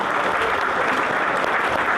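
Sustained applause from a large audience at a church students' conference, dense steady clapping filling the space with no pauses, loud and even throughout.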